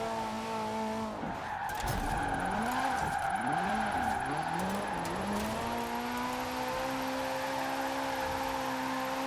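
A BMW car engine in the racing video game Forza Horizon 4 roars and revs continuously while drifting, pitch climbing and falling through gear shifts, with tire squeal mixed in, loud and steady throughout.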